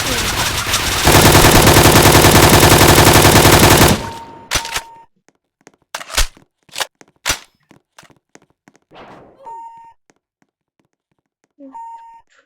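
Video game gunfire: a long, loud automatic burst of rapid machine-gun shots, then scattered single gunshots and short beeps separated by quiet gaps, with occasional bits of talk.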